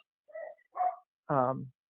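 Pet dogs barking at home during an online board meeting, three short yips and barks in quick succession, the last one longer and fuller, fairly close with no talk over them.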